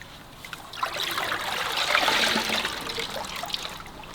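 Water trickling and splashing out of a container while a koi is moved into the main pond outdoors, a steady close pouring sound that swells in the middle and tapers off.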